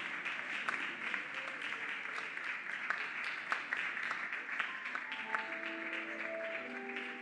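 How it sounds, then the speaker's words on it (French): Audience applause in a hall at a Maajabu final ceremony, welcoming the culture minister to the stage: steady moderate clapping throughout, with a few sharper claps, while some voices and faint background tones emerge toward the end. "sous vos applaudissements, j'invite son Excellence, Madame Catherine Katunga Foura"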